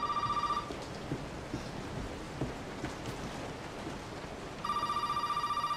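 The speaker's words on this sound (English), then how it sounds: "Oh, phone ring." Telephone ringing in the horror game Resident Evil 7, two bursts of an electronic ring at the start and end, separated by a quiet stretch of rainy ambience with soft thuds.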